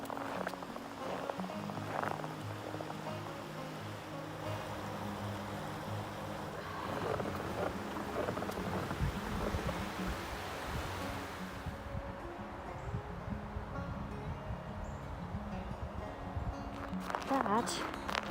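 Steady, broadband traffic roar comes from Interstate 81 passing overhead on the Appalachian Trail in Pennsylvania. It stays loud and continuous under wind noise, with people talking over it.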